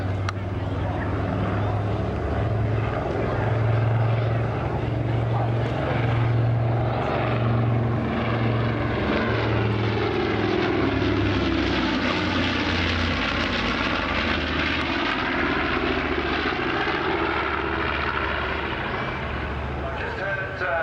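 A World War II-era warplane makes its final pass at the Southport Air Show, a loud, steady propeller-engine drone that swells and shifts in pitch as it flies by, with a commentator talking over it.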